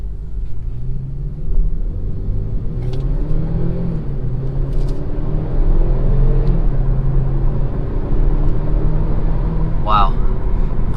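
A 2018 Kia Stinger with a 2.0-liter turbo four-cylinder accelerating hard, a steady low engine drone and rumble heard from inside the cabin, rising in pitch through the gears with brief shift breaks.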